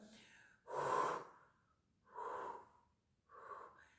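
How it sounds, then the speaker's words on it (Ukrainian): Three slow, breathy exhalations through pursed lips during a breathing exercise, each a soft close puff of air separated by pauses, the later ones slightly shorter and quieter. "збираєте губи в трубочку, так, наче ви задуваєте"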